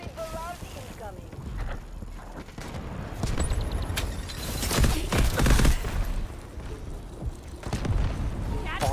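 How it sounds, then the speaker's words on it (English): Artillery barrage explosions in the Delta Force video game, a dense run of heavy booms and gunfire-like bursts thickening midway, mixed under steady team voice chat. "Requesting artillery barrage! Over! Roger that. Artillery barrage incoming."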